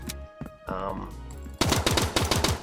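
A pistol fires in the tactical shooter game Transience. A few sharp, scattered shots come first, then a fast, rapid string of about eight cracks, loud and close.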